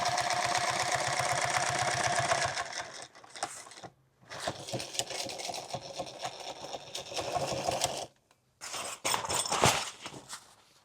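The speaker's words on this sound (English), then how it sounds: "Where I'm sewing them through, this is actually 5 layers of material." Sewing machine stitching through five layers of tool bag material, a rapid close mechanical whir running in bursts with short pauses between runs.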